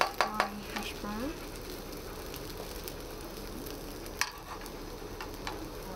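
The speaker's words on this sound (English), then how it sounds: "So, cook my hash brown." Hash browns frying in a pan at a campsite during a festival, a steady close sizzle with a few stirring scrapes near the start and occasional clinks, nobody speaking.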